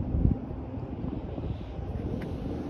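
Wind buffets the microphone beside the river at Lower Broadway in Nashville, Tennessee, a steady low rumble with a stronger gust near the start, no voices.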